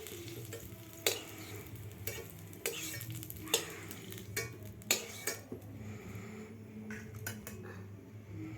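Green chilies sizzle in a little oil in a pan alongside garlic, with a soft steady frying hiss broken by sharp stirring clinks and scrapes at irregular intervals, close but quiet.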